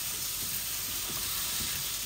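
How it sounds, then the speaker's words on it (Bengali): Sliced potatoes fry in a thin pan with hot oil, a steady close sizzling hiss running evenly throughout without pauses or voices. "আলুগুলা হোক ভাজা।"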